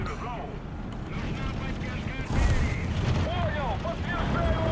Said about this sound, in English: So I'm going to drop artillery right next to it